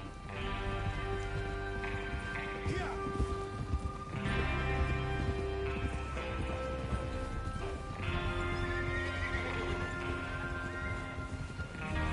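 Horses clop and whinny amid a busy layered backdrop of music and ambient noise, with hoofbeats recurring in waves, in the video game Red Dead Redemption 2.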